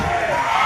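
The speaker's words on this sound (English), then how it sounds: "Crowd going wild for Luke" A wrestling crowd roars loud and continuous for a wrestler named Luke after a tag-team spot, with a dense wall of cheering and yelling.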